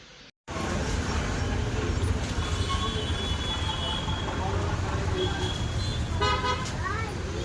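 A vehicle being taken out for a drive to a roadside snack stall, with steady engine and road noise throughout, a few short horn toots near the end, and people talking over it.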